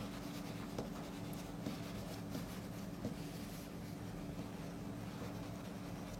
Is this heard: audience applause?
no